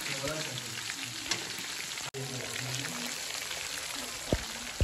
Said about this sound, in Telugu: ఇవైతే సన్నటి మంట మీద వేగనివ్వాలి మిరపకాయలు.